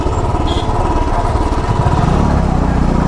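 A faulty motorcycle lurches through a traffic jam, its engine chugging loudly and close by. The engine pulses in a rough, uneven rhythm that grows more insistent toward the end.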